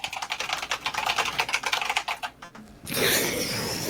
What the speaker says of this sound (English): Oh my God, someone's hammering away at their keyboard.